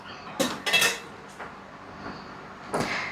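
A metal lid clanks onto an idli steamer, a few sharp close metallic clinks and taps over about three seconds, with a final knock near the end.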